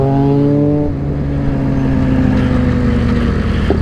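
A motorcycle engine revs and then settles into a steady drone during a group ride, loud and close amid wind rush, with no talking.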